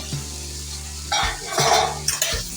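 Mixed vegetables for a Bengali sabji are stirred in a cooking pot after the lid comes off, with soft sizzling and a few scraping clanks of the spoon against the pot near the end.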